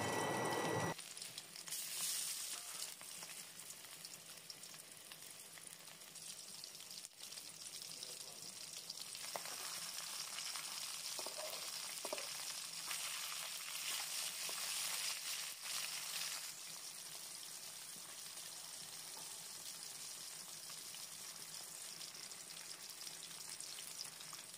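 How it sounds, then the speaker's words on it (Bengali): Pangas fish frying in oil in a wok, giving a steady, dense sizzle that runs unbroken for the whole stretch, close and fairly loud, with no voices. "এবার কড়াইতে তেল দিয়ে এর মধ্যে মাছগুলোকে খুব ভালো মতো একসাথে ভেজে নেব।"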